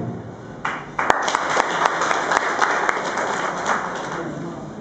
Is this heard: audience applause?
yes